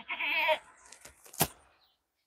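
A goat at a breeding farm where adult goats and kids are kept bleats once, close and clear, followed by faint shuffling and a sharp knock.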